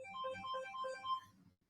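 A faint melodic phone ringtone plays a short repeating tune of electronic tones for about a second and a half, then stops, with no speech over it.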